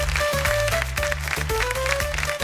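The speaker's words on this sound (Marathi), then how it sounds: "एका जोरदार टाळ्या होऊन जाऊ दे." Audience applause on a Marathi television game show: a dense, steady wash of clapping runs through the whole stretch beneath loud, tonal show music.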